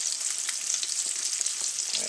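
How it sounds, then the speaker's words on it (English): Onions caramelizing in a frying pan, alongside a chicken fried steak cook, sizzle with a steady, dense hiss and scattered crackles throughout, close and continuous with no talking. "onions caramelizing up"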